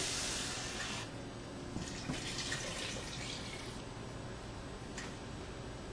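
Water is poured into a pot of New England pot roast with beef broth. A steady splashing gush is loudest at first, then settles into a softer, continuous trickle.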